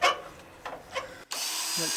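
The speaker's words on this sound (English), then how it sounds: "So to fix these on, I'm pre-drilling a little hole in here" A power drill whirs in a few short bursts while pre-drilling a small hole, then runs steadily for a longer stretch, fairly close.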